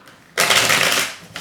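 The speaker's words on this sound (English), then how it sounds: "let me just give one quick shuffle" A quick riffle of a tarot card deck being shuffled, one brisk burst of crisp flicking up close in a quiet room.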